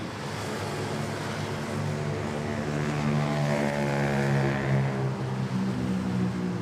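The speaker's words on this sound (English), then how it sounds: "we have Philippine Airlines A321 arriving from Osaka" A Philippine Airlines Airbus A321 arriving at Manila airport from Osaka, its engines a steady, loud roar that swells slightly and then eases, with no talk.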